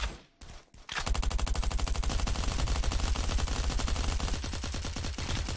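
Rapid automatic gunfire in the survival video game Last Day Rules Survival, a loud sustained burst of repeated shots running for several seconds after a brief lead-in.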